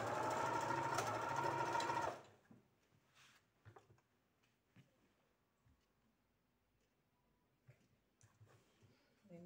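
A sewing machine stitching dress fabric runs with a loud, fast whirring hum for about two seconds, then stops abruptly, leaving faint ticks and small clicks.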